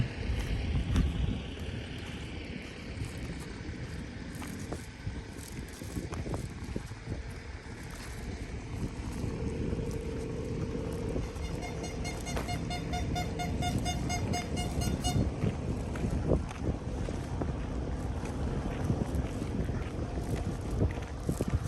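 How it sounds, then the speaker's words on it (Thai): Steady wind rushes across a riverbank beside a dam near a bridge, a continuous broadband roar with some microphone buffeting and faint distant tones partway through. "ลมพัดเย็น เย็น"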